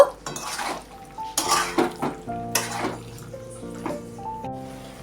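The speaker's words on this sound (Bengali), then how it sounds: "ভাজা আলুগুলো একসঙ্গেই কষিয়ে নেব" Jackfruit and fried potatoes being stir-fried together in a pan, with a spoon scraping and clattering against the metal in irregular bursts over a low, steady sizzle; no one speaks.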